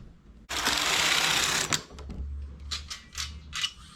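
A domestic knitting machine working stitches on its ribber bed, a loud half-second carriage pass with rattling needles, followed by a low motor hum and several short sharp clicks and clacks close by.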